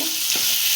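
Spiced jackfruit masala sizzling steadily as it's stirred in a pan, with one brief scrape of the spoon partway through the short burst.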